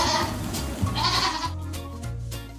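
Goats bleat in several tonal calls over a busy farmyard background, fairly close and moderately loud, with no talking.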